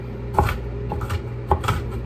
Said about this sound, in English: it's just me chopping on this, bro.